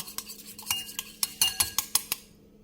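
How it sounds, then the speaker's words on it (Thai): A utensil clinks against a bowl while three egg yolks are mixed with whipping cream and half a cup of parmesan for a truffle cream spaghetti sauce, a quick series of about a dozen bright metallic taps. "ทีนี้จะมาผสม ไข่แดงค่ะ ใช้สักสามฟองนะคะ"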